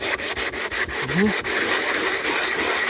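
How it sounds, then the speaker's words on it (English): Hand rubbing across varnished timber to break up its satin sheen, a steady close scratchy friction with repeated strokes throughout and a faint voice-like tone in the middle. "Break that varnish up. Get the sheen off it. Get the satin off it."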